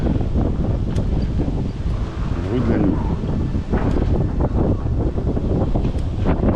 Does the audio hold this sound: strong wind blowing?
yes